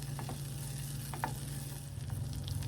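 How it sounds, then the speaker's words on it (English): Butter melts with a soft, steady sizzle in a pan as a utensil stirs and scrapes it around, a few light clicks of the spoon against the metal rising over the quiet frying. "when you melt your butter, you want to make sure it doesn't burn, so you want to like toss it around and stir it"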